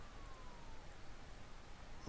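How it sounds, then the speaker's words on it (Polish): A wailing ambulance siren from the SimCity city-building game, a faint, steady electronic tone sweeping slowly beneath a dense, constant bed of city ambience. "To karetka tutaj."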